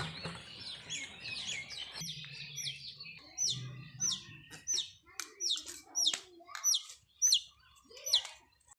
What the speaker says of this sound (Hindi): देखिए बहुत ही ज़्यादा चिड़िया चहचहा रहे थे और बहुत सुंदर लग रहा था